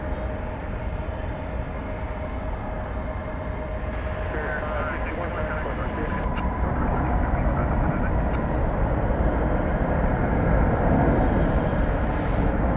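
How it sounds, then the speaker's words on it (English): An American Airlines Boeing 737-800 arriving at DFW airport at night produces a steady, broad jet roar that swells slightly louder toward the end, with people talking over it. "American Airlines coming in from San Jose. That's a 737-800."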